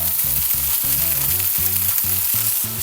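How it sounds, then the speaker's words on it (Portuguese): Beef sizzles as it is sautéed in a hot pan: a dense, loud, close frying hiss runs throughout, with rhythmic tonal clinks of stirring underneath and no speech. "Esse barulhinho significa que a minha carne vai selar e ela vai proteger o resto."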